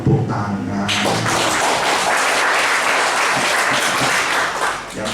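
A church congregation breaks into applause after a brief opening thump and low tones, then dense, even clapping from many people continues loudly before easing slightly at the end.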